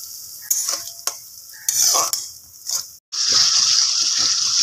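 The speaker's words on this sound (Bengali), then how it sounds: "এবার ভালোভাবে মশলাটাকে নাড়াচাড়া করে নেওয়া হচ্ছে।" Spice paste for mutton do pyaza is stirred in a pan of hot oil, with close scraping strokes and bursts of sizzling that swell into a loud, steady hiss after a brief gap, with no voices.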